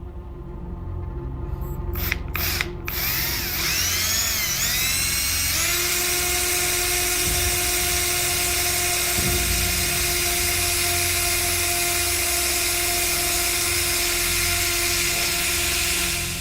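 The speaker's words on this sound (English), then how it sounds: "He starts drilling." A high-pitched drill whines continuously, revving up after a few sharp starts and then holding a steady, loud grinding tone.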